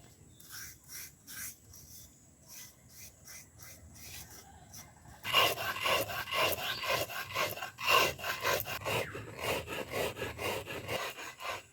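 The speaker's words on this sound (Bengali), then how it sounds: "তারপর চিনিগুলো আমি গুঁড়ো করে নেব।" Sugar being ground into powder for a biscuit cake, a steady gritty rasping that starts softly, then turns loud and dense after about five seconds and keeps churning with no voices.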